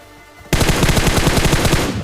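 Rapid automatic gunfire from a battle royale shooter game erupts suddenly after a quiet moment, a loud, sustained burst of closely spaced shots.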